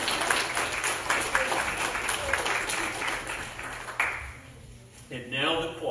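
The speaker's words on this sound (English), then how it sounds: "Give them a big round of applause." Congregation applause at an Easter church service at Mars Hill Baptist Church in Hillsborough, NC: dense, steady clapping fills most of the clip, fading near the end as a voice and other sounds take over.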